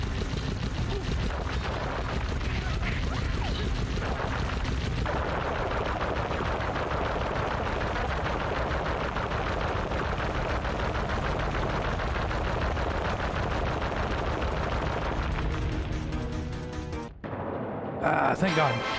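Sustained machine gun fire from a heavy gunner raccoon character in a Sly Cooper game, a dense continuous rattle of shots running loud for most of the stretch before cutting off abruptly near the end, with a voice talking over it.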